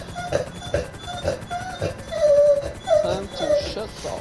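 A pet dog whimpers and cries in a series of high, repeated whines, some drawn out, close by in a room while a video game plays in the background.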